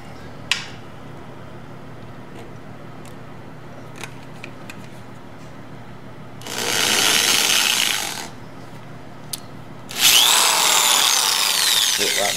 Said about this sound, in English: Now we're going to drill 6 little holes.